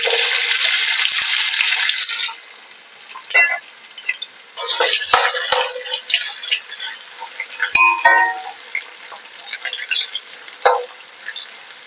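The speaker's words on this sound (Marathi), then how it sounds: "तेल छान गरम झालं की त्याच्यामध्ये आपण चिरून घेतलेला कांदा घालूया।" Chopped onion dropped into hot oil in a pan, a loud steady sizzle for the first couple of seconds, then quieter crackling with clinks and stirring scrapes of a utensil, a voice speaking now and then.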